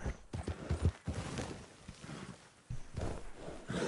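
Horse hooves clop and scrape in a Red Dead Redemption 2 game as the horse drifts, giving an uneven run of close thuds and skidding noise over a steady game background.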